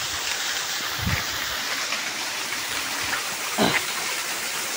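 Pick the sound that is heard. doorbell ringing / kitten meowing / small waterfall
small waterfall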